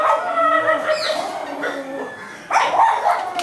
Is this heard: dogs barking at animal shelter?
yes